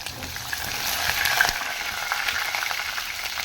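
Cumin, dried red chilli, onion and green chilli fry in hot oil for moth bean sambar, a steady close sizzle with occasional stirring clinks and no voices.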